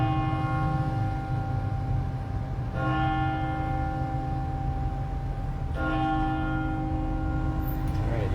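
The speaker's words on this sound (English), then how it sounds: "hear the bells" Church bells ring out in Woodstock, Illinois, their sustained tonal strikes starting at regular intervals and overlapping in a steady, fairly loud wash over low background noise, without speech.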